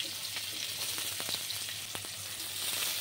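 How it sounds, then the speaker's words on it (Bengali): Chopped onions dropped into hot oil over a tempering of nigella seeds, giving a continuous close hiss of frying with a few sharp crackles and light stirring scrapes, no talking. "পেঁয়াজ কুচি দিয়ে দিচ্ছি"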